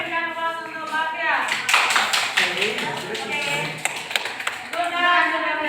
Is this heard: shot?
no